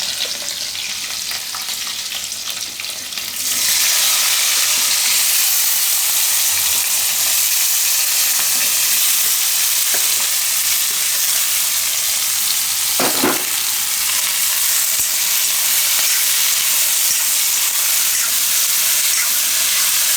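Green chillies and raw tomatoes hit hot oil in a pan and erupt into a loud, sustained sizzle and hiss that continues steadily with an occasional clink of a stirring spoon.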